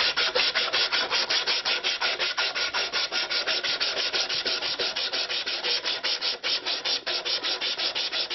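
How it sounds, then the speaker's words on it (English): Sandpaper is rubbed over the curved wooden body of a handmade Anglo-Saxon lyre in steady, fast back-and-forth strokes, a close, loud, continuous scratchy rasp with no talking. "put the sandpaper over like this, hold it between your legs or in a vice"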